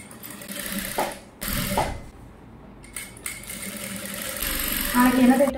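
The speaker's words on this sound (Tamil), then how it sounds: "இப்போ உள்ளபடி சுற்றி தையல் போடணும்" A sewing machine stitches around a size 38 gown in short bursts of mechanical whirring, near and moderately loud, broken by pauses and handling clicks, with a voice talking at times.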